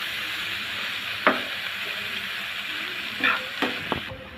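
Mixed leafy greens are stirred with spices in a frying pan. A constant sizzle runs underneath, and a few scattered scrapes and taps of the spoon against the pan cut through it.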